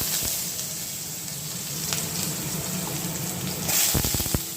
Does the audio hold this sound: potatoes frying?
yes